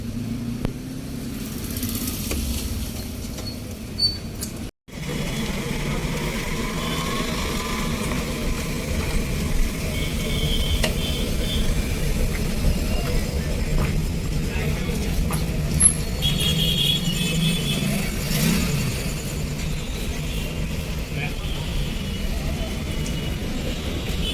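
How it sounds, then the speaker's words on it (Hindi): Heavy road traffic in Mundra rumbles steadily with car and motorbike engines idling and revving nearby, a continuous dense din under occasional voices, broken by one brief dropout. "इतनी ट्रैफिक है यहाँ पे"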